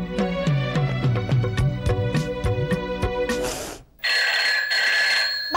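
A telephone rings with a rapid, insistent electronic bell in repeated bursts, loud and close, followed by a brief gap and a shriller tone, in a domestic scene, with no voices over it.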